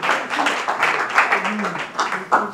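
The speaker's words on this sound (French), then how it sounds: "Est-ce qu'on peut applaudir très fort pour nos amis?" Loud, close applause from the audience at a Dolait Show competition final, a dense, continuous burst of clapping with a few cheering voices rising above it.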